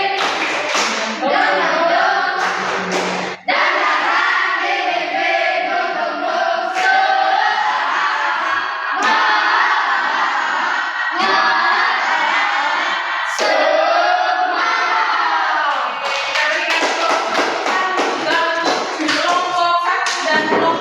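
Indonesian student group performing a yel-yel cheer with rhythmic clapping and loud chanted voices in unison, a sustained energetic group performance with sharp claps punctuating the chant throughout.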